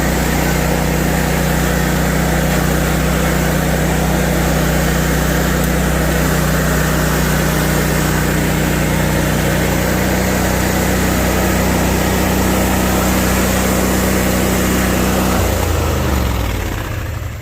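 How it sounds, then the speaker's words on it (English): A lawn mower engine drones loud and steady while mowing grass in the rain, holding a constant hum for most of the stretch before winding down near the end. "Mowing in the rain, just mowing in the rain."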